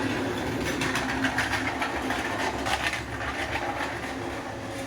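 A train passes right in front of a house, a steady, fairly loud rumble and rattle with clickety-clack running the whole time and no voices.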